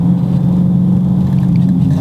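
A car on Atturo AZ850 performance tires accelerates through a turn in third gear, its engine a steady, loud low rumble with road noise that holds throughout.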